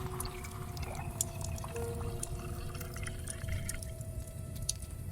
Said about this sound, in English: poured 2 generous glasses of scotch